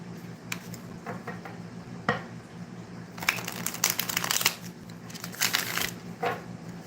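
A deck of tarot cards is shuffled by hand in quick, papery riffles and slides, with a busier stretch of dense flicking in the middle and lighter bursts at either end.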